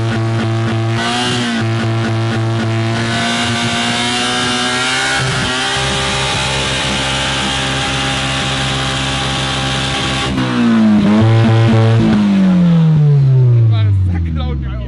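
Car engine revving hard while brake cleaner is sprayed into the air intake, loud uneven revs rising and falling, with a sharp rising whine near the end; people talk over it.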